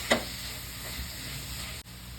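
Two chopped tomatoes drop into a pan of frying spices (chili powder, garam masala) while making chicken kurma, a quick clatter then a steady soft sizzle and hiss that continues evenly, no speech.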